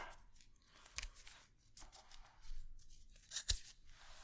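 A few crisp snips and a tearing crunch, close and fairly quiet, as scissors cut through a coil unwound from a ball, with soft rustling between cuts.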